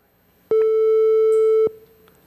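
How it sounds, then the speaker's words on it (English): A single steady synthesized triangle-wave oscillator tone from the Web Audio API, shown in a signal-processing talk, sounds for just over a second with an abrupt start and stop and clear, evenly spaced overtones, loud over a quiet room. "There's other type of oscillators other than sine wave."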